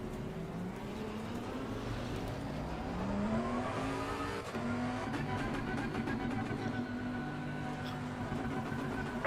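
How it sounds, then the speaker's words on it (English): Aston Martin and Bentley GT race car engines in the Assetto Corsa Competizione racing game roar and rev, pitch climbing through gear changes with a brief shift dip midway, a continuous loud engine note without talk. "They have proper roaring engines."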